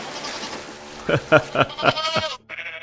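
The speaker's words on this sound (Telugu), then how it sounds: "పాపం మేకలు నీటిలో మునిగిపోతున్నాయి" Goats bleat as they are pushed into a pond, a run of about five loud, close cries in quick succession, with someone talking underneath.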